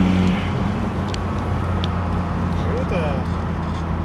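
A Mitsubishi 3000GT (GTO) drives slowly with a steady low engine hum and road noise filling the cabin, with people talking inside over it.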